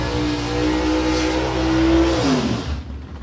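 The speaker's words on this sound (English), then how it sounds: "Stewie McBain from Bunkers Hill, in the Chevy Lumina. Beautiful looking car. Gets up and going" A Chevy Lumina street car at a South Coast street challenge revs hard with a steady mid-pitched engine drone, then the note shifts and drops away as it accelerates past, loud and close.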